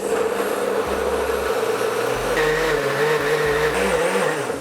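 Blender blitzing watercress and potato soup, a loud steady motor whine whose pitch steps up and down in short bursts as it pulses, with no talking.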